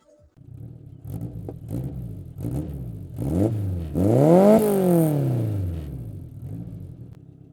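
A car fitted with a modified Devil Magnum exhaust revs several times, with short rising blips building to a longer, louder rev that holds and then fades. The sound is near and clear, with no talking.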